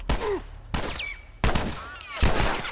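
Four loud gunshots, close and punchy and spaced about three-quarters of a second apart, from The Last of Us Remastered on PS4 Pro, each trailing into a short echo.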